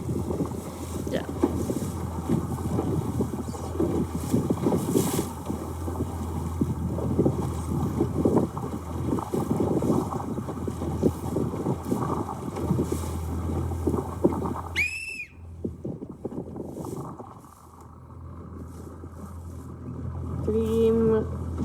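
A sailboat beats upwind in light wind with choppy waves, steady rushing wind buffeting the microphone and water noise for most of the stretch, then dropping briefly before resuming, with faint voices underneath.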